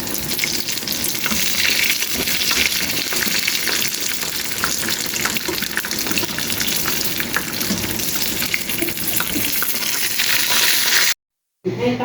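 Chicken spring rolls and cheese and meat sambusa deep-frying in oil, a loud, dense, continuous crackling sizzle with light stirring, close up, cutting off abruptly near the end.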